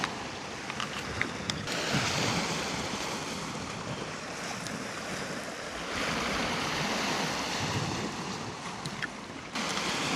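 Sea waves wash onto the shore beside an outdoor breakfast cooking spot, a steady broadband surge with swells rising and falling, mixed with wind buffeting the microphone throughout.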